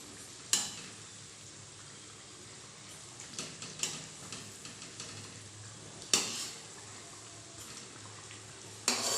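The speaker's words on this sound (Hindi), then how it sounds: "तो चलिए हम इसे फ्राई कर लेते हैं सभी कचौड़ी को" Kachori frying in hot oil in a kadhai gives a soft, steady sizzle, with occasional sharp clinks and scrapes of a utensil against the pan.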